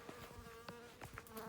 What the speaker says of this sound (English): I got a bee buzzing the camera and buzzing me.